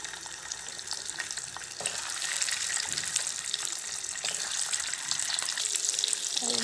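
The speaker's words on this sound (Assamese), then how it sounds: "মানে ডিমকেইটা প্ৰথমে ফ্ৰাই কৰি ল'ম।" Eggs frying one after another in hot refined oil with salt and turmeric, a steady close sizzle and crackle that grows louder after the first couple of seconds, with light spattering pops throughout and no voices.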